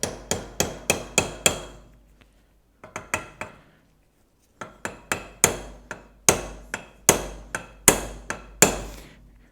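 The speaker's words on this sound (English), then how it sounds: "let's try hammering this in and see if we can go to the next step or not" A hammer strikes metal in quick sharp bursts of five or six blows, driving a heater hose quick-connect fitting into an OBS GM truck with a 6.5L turbo diesel, pausing between groups, ringing and close.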